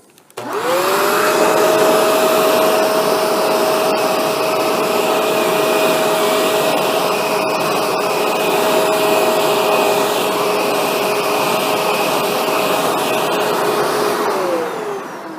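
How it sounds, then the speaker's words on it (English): A Shark NV752 vacuum running with its powered pet tool gives a loud, steady motor whine and airflow roar. It starts up, holds level for about fourteen seconds without pause, then winds down. No voices. "Here we're using the Shark NV752 with the powered PET tool."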